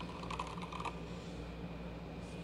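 Typing on a Moto Speed CK61 mechanical keyboard, a short quick burst of close, crisp key clicks followed by quieter room hum.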